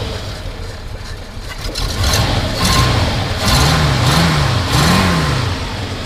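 A 1960 Oldsmobile Dynamic 88 convertible engine with a two-barrel carburetor turns over and catches, then runs with a steady rumble and a few revs rising and falling, close by.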